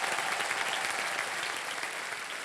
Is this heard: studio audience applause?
yes